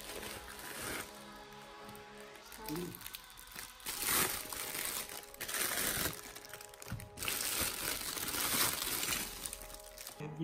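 Plastic packaging from an online shopping order crinkles and tears as it is opened, crackling in uneven bursts close up over a steady background hum.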